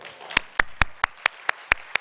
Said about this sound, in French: je pense qu'on va applaudir